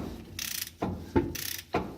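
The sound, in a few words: ratchet tightening a pinion nut on a 1976 Nova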